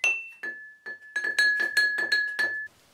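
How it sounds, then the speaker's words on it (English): Wooden spoons tap on drinking glasses: a string of bright clinks in uneven rhythm, each ringing with a clear sustained pitch, close up and fairly quiet, the pace picking up toward the end. "Spread out your glasses and try tapping them with your sticks to make music."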